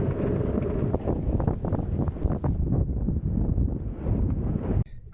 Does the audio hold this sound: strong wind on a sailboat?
yes